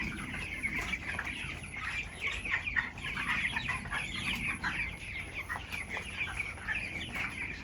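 A flock of 19-day-old chickens clucks and peeps steadily and close by, a busy overlapping chorus that runs the whole time with no talk.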